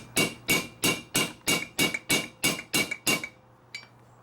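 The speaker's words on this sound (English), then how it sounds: "I'm gonna drop them in and hammer them down." Nine sharp, evenly spaced hammer blows strike metal as frozen nuts are driven into place during a Dana 44 axle reassembly, in a steady rhythm, followed by a softer tap after a short pause.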